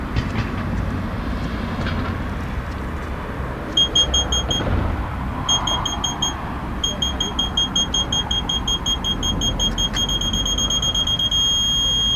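Rapid, high-pitched electronic beeping from electromagnetic car parking sensors in repeated bursts that quicken toward the end, heard over a low engine rumble and road noise.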